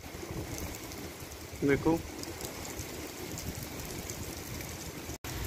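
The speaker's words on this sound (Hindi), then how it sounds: "तेज हवा चल रही है, बिल्कुल सड़ासड़ सड़ासड़" Strong wind and the first monsoon rain of the season blow steadily outdoors in India, a dense broadband rush under a man's brief spoken remark, with no distinct drops standing out.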